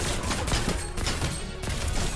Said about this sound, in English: And now we have an insane gun. The Stark Industry Rifle.